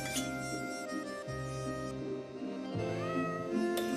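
A house cat meows several times in a short dry-cat-food radio advert, clear close meows over a steady music bed with no talking.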